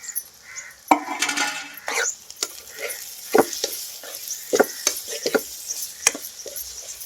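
Tomato pieces and curry leaves cooking down in a pan, with soft sizzling broken by repeated spatula scrapes and knocks against the metal, heard up close with no one speaking.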